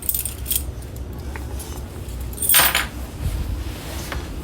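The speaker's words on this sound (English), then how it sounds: "For your keys, the purple ones are going to be for your doors" Metal RV door and baggage door keys jangle close by, with a few light clinks early on and a louder burst of rattling midway, followed by fainter chinks.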